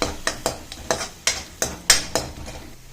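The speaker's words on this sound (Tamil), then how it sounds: "இது நல்லா வதக்கணும்." Ground paste with Kashmiri chili powder being sautéed in a pan for a greens thokku, a spoon scraping and knocking the pan in about eight quick regular strokes over a faint sizzle, close and without talk.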